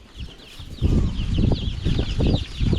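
Chickens in a chicken-raising pen cluck close by in short, repeated bursts, with a brief flutter of wings among the calls and no talk over them.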